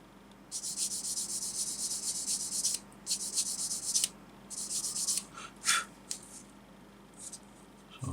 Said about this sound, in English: Again, let the sander do all the work. There's absolutely no need to press down hard whatsoever. Just very gently sand it away.